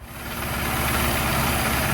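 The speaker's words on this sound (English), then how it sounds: "we've got a clean running engine again" A car engine idling steadily after carburettor needle tuning, a close, loud, continuous rumble with a slight rise in level at the start and no talking.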